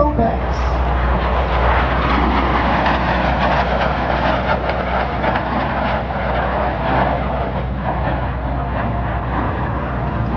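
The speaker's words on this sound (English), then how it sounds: "T-33 photo pass." Lockheed T-33 Shooting Star jet on a photo pass at an airshow, a broad sustained roar that swells and slowly fades, with a voice speaking over it.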